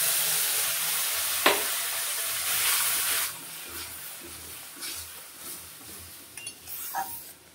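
Amul milk hits fried semolina in a hot pan with a sharp burst of loud sizzling, then a frying hiss that fades while a utensil stirs and scrapes against the pan.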